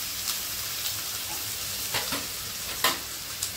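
Grated dried coconut and coarsely crushed peanuts stir-fried in a pan over medium heat, a steady sizzle broken by several brief scraping stirs of the spatula, close and continuous.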